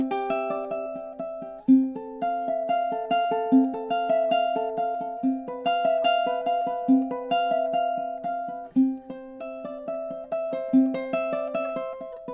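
A ukulele plays a campanella-style Bach arrangement, melody notes spread across multiple strings so they ring into each other in a bright, bell-like flowing line, played solo and clearly without talk.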